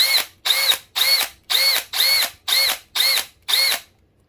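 A cordless 12V drill fitted with an upgraded 14V battery spins in eight evenly spaced, loud bursts, each whine ramping up quickly then cutting off, close and alone without speech.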